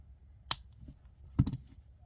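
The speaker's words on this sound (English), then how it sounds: "And then we're going to snip off this excess." Two crisp snips about a second apart as cutters trim excess wire from a beaded double-strand necklace, close and fairly quiet with a soft room background.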